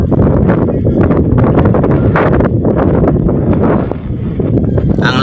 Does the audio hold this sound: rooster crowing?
no